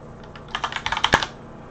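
A short burst of typing on a computer keyboard, about a dozen quick key clicks in an uneven run with one sharper, louder keystroke near the end, close and clear over a quiet room.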